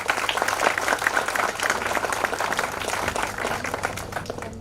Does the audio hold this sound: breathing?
no